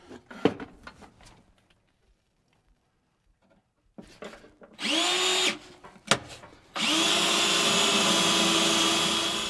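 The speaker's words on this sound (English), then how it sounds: "Drilling holes in my Jeep again." A power drill whirs in two bursts into a Jeep's body, a shorter one and then a longer steady run, close by, after some scattered clunks and handling noises.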